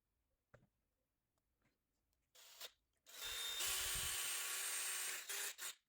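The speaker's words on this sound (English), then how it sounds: "I'm going to take our drill bit." A power drill boring holes in the plastic shell of a HASLAB Proton Pack: a short whir, a pause, then a long steady high-pitched grinding run that stops abruptly, close and loud.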